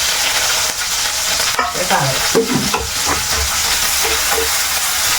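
Half an onion and a green chili frying with curry leaves in a hot pan, a steady close sizzle under repeated stirring scrapes throughout, with no talk.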